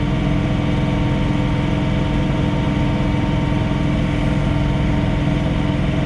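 A John Deere 3046R cab tractor engine runs steadily at high speed, revved to full PTO power at about 2600 RPM on a snowy night, with a constant loud drone and no talking.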